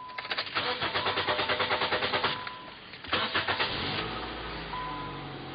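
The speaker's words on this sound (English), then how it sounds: "If I'm right, the car should turn on without any real hitch." A 2006 Nissan Sentra, just fitted with a new camshaft position sensor, cranks with a quick run of rhythmic starter pulses, falters briefly, then catches and settles into a steady idle, close and loud.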